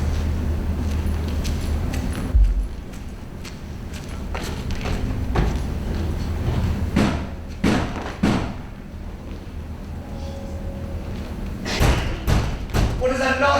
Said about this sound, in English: What is that knocking?